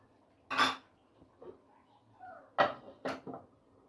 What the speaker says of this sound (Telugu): ఇప్పుడు మళ్ళీ మూత పెట్టి కొద్దిసేపు ఉంచాలి